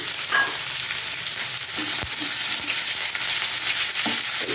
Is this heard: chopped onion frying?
yes